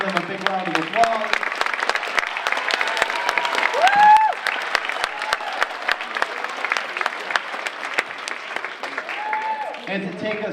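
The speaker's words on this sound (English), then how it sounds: "give them a big round of applause" Sustained applause from an audience at a Martin Luther King Jr. community event, dense clapping filling the room throughout with a few voices and a brief whoop rising above it.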